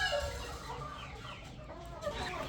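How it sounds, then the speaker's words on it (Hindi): White Aseel hen clucking close by, soft repeated clucks over steady farmyard background noise, with no voices. "भाई मैं एक मुर्गी दिखाने लगा हूँ,"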